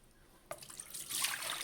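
Water running from a GE refrigerator's door dispenser after a filter change, a soft hissing stream that starts abruptly and grows steadier and louder, heard alone at close range.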